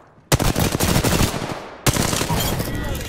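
First-person shooter gunfire on a Counter-Strike-style map: two sharp-onset bursts of rapid automatic fire, loud and close, each rattling for over a second before the next starts.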